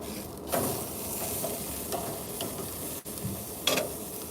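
Steak sizzles on a barbecue grill, a steady soft hiss and crackle with occasional brief clinks and scrapes of utensils, moderately close and with no talking.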